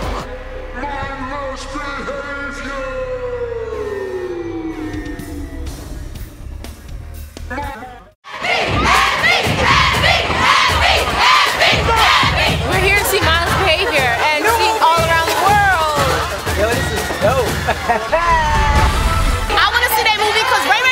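Loud, dense crowd noise from fans at a Mindless Behavior show in Atlanta, a continuous roar of excited chatter and whoops that surges after a brief drop in level and keeps going to the end.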